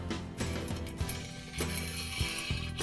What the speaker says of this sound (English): Take our wrench and tighten it down.